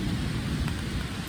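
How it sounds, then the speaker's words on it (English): Steady rain hisses throughout, with a low rumble of thunder underneath, continuous and fairly loud. "Yep, there's some lightning. There's the rain."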